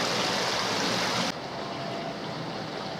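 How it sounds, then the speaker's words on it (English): The River Ouse flowing, a continuous broadband rushing hiss of moving water. It drops to a somewhat quieter, duller wash partway through and stays steady after that. "Whereas this is the River Ouse itself here."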